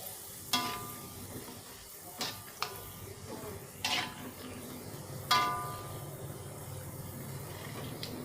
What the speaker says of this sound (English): You only need some seconds to fry this emping, not too long